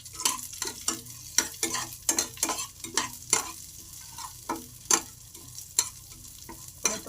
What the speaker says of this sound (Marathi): याच्यामध्ये ड्रायफ्रूट आपले भाजून घेऊया। काजू टाकलेत, बदाम आणि मनुके आणि नंतर विलायची चांगले भाजून घेऊया।